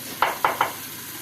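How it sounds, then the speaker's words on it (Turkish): Two cloves of garlic dropped into a hot pan, three quick close sizzling bursts in a row, each flaring sharply then fading. "Buna şimdi şöyle iki diş sarımsak atıyoruz."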